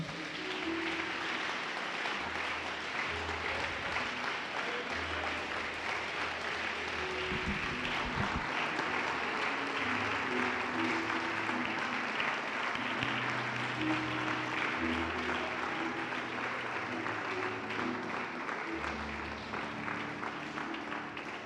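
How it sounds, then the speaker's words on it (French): A church congregation at a French-speaking worship service applauds and acclaims the Lord, sustained clapping running for the whole stretch alongside low musical tones. "Est-ce que tu peux acclamer le Seigneur?"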